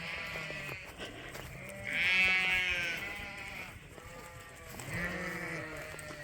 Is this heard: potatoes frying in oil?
no